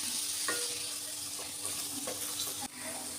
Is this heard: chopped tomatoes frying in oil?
yes